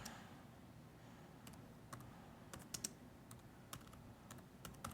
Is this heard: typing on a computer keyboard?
yes